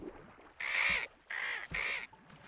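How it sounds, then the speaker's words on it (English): Large bird mobs in the Infdev+ version of the video game give three loud, harsh squawking calls in quick succession, each lasting about half a second. "Oh my goodness, there's birds."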